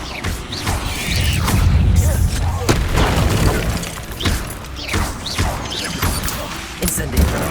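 A wand spell fired during a Hogwarts Legacy duel: several booming magical blasts and thuds in quick succession, loud and close, mixed with clashing impacts and shouted incantations.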